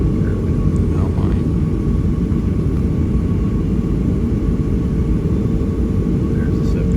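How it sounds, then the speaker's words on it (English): Inside the cabin of a Delta Boeing 757-300 taking off from runway 10 left, a loud, steady jet engine roar and rumble fill the space without letup. "here we go for our takeoff from runway 10 left"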